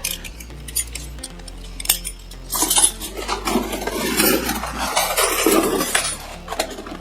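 Sterling silverware and hotel flatware are sorted by hand from a bag, making irregular metallic clinks, jangles and clatters close by, busier in the second half, with no voices.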